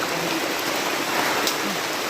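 Steady rain hisses in the mountains, an even wash of falling drops heard close and alone for a couple of seconds.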